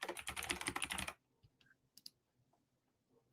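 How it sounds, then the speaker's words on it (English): Rapid clacky typing on a computer keyboard fills the first second, loud and close, then stops, leaving a few faint scattered clicks in a quiet room. "sorry, I got the clacky keyboard out"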